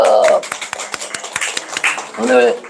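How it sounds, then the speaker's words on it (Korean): Church congregation clapping hands during a Sunday service, scattered sharp claps in an uneven rhythm between spoken phrases, with a voice talking before and after. "우리 박수 쳐드려요. 박수."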